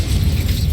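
An Incendio fire spell cast in Hogwarts Legacy gives a loud, brief, roaring whoosh of flame with a dense rumbling low end, heard alone.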